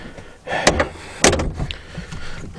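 Rear-hinged door of a Renault 4CV being handled, two sharp close clunks of the door closing and latching amid shuffling and rustling.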